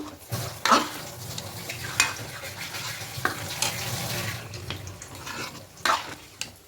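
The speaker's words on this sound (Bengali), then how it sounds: "এবার এখানে দেব হাফ কাপ দুধ লিকুইড দুধ দিয়ে খুব ভালো করে মিশিয়ে নেব" Half a cup of liquid milk is stirred into a pot of vegetarian rice and lentil khichuri, giving wet, sloshing stirs and bubbling under a low simmer, with a few louder knocks of the spoon against the pot, close by.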